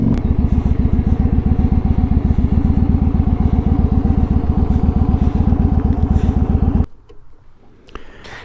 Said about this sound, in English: it's just a Victory motorcycle